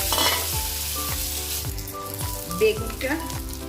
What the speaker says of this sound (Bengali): এই বেগুনগুলো দিয়ে দেবো। বেগুনগুলো একটু ভাজা করে